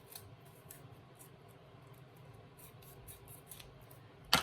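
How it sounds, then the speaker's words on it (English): Scissors snip double-sided tape down to size for a papercraft money holder, a few faint, close clips over a quiet room, with one sharper snap at the end and no voices. "I'm just using double-sided tape, and I'm just gonna cut it down to size."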